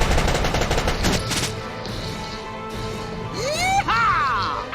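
Rapid machine-gun bursts crackle at the start of a Valkyria Chronicles battle, fading into rising whooshing game effects, loud and close with no talking.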